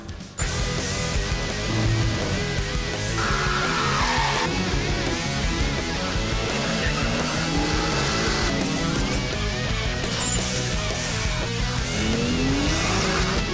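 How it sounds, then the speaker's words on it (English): Modified performance street cars race with engines roaring and revving loud and continuous, broken by tire squeals, while music plays and no one speaks. "takes us into the competitive world of modified and performance cars."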